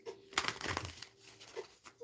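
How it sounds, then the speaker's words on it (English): A tarot card deck is shuffled by hand during a live reading, giving close, soft crinkly riffles and papery rustles in short uneven bursts with quiet gaps between them. "All right, one more shuffle."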